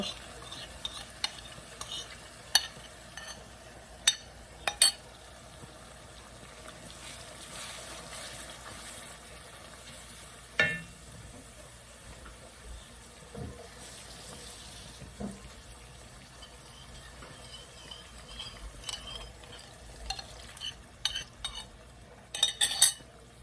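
Spice paste sizzles and fries in a pan while a spoon stirs and scrapes it, with scattered clinks and scrapes over a low, steady frying hiss and no talking.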